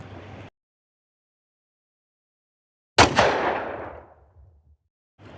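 A single sharp gunshot cracks out of near silence, followed by a long rumbling echo that fades over about two seconds.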